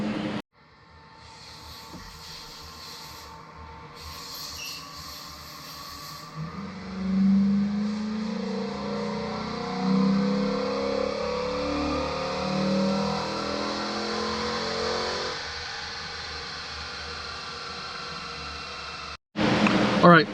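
A car engine on a dyno with an AFE cold air intake fitted, droning steadily then climbing in a long loud pull for several seconds before dropping off, with a brief burst of noise at the very end.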